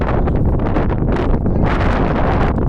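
Strong wind in Kerala buffets the microphone in heavy, rumbling gusts, surging and easing irregularly throughout without any voices.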